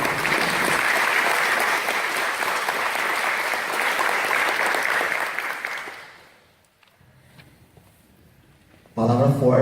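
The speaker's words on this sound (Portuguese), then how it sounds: "Vamos aplaudir a palavra de Deus." Church congregation applauding, a full, even wash of clapping that fades out after about six seconds into near silence before a voice begins speaking at the end.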